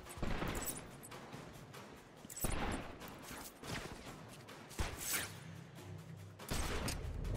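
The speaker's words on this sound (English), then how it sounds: "They're shooting somewhere." Bursts of gunfire in Batman: Arkham Asylum, with sharp volleys and crackling shots recurring irregularly against a background of rumbling in-game ambience, moderately loud and without any talk.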